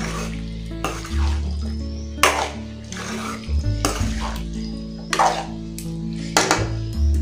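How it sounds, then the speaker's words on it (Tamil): Marinated chicken and masala sautéed in a pan, with a spoon scraping and clattering against the metal in repeated strokes over a low steady hum of heat, close and fairly loud. "இது போல் நல்லா வதக்கிக்கோங்க."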